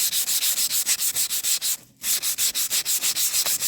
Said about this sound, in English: I'm going to scratch it up